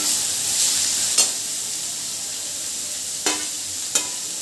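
Grated beetroot is stirred in a frying pan, giving a steady soft sizzle with three sharp spoon scrapes against the pan, and no one speaks.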